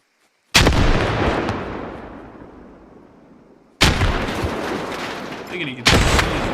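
Gunfire and explosions in a competitive video game match on the Fools Road map, loud booming blasts with long decaying echoes, three separate heavy reports spaced a few seconds apart.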